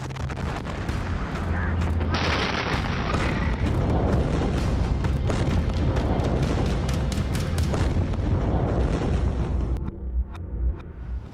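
Blast and gunfire-like booms from the explosion in Beirut, Lebanon, a dense, continuous roar of heavy low rumbling and sharp cracks across the whole stretch, dying down near the end, with voices mixed in.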